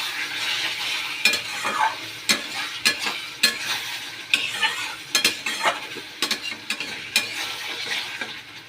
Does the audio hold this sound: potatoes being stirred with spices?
yes